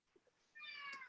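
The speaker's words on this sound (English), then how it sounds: "Sorry, that was my cat." A house cat lets out one clear, drawn-out meow close by, preceded by a couple of faint soft bumps in an otherwise quiet room.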